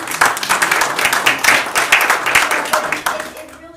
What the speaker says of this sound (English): I would give them applause for putting up with us all these years.